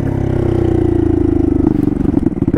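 A turbocharged Honda Grom motorcycle with a swapped CBR engine idles loudly with a steady exhaust rumble, then stumbles and pops unevenly as the throttle drops near the end.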